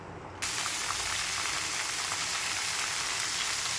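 Mango pieces for pickle frying in oil with panch phoron, a steady loud sizzle starting abruptly after a brief quiet moment and holding evenly throughout.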